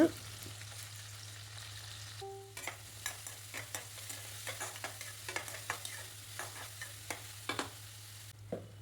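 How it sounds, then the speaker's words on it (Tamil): Onions and curry leaves sautéing in hot oil, a soft sizzle with repeated scraping stirs of a spatula against the pan, close by. "கூடவே வெங்காயம் கருவேப்பிலை சேர்த்து நல்லா வதக்கி விட்டுருங்க."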